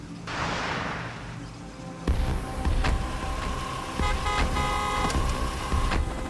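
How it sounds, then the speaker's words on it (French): A car creeping slowly away through a road scene, its engine a steady low rumble with a sharp jolt partway through and brief tonal honk-like accents later, fairly loud and with no talk. "Celui qui est dans la voiture roule très doucement."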